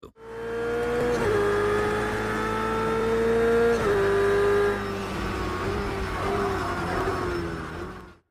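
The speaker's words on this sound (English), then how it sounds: "the immersive, nuanced sound of a car's engine in Project Cars 2" A car engine in the racing game Project Cars 2 drones and revs with rising and falling pitch, loud and close, with a faint tire squeal near the start and a smoother cruising tone after the shift.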